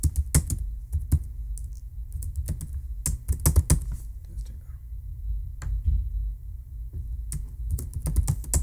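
Keys clatter on a computer keyboard in irregular bursts of quick taps with short pauses, close and crisp, and a soft voice murmurs in parts of it.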